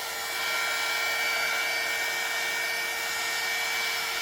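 A heat tool blows a steady, loud whirring hiss while warming resin on a prepared canvas for a mixed media painting, held close and continuous with no pauses or talk.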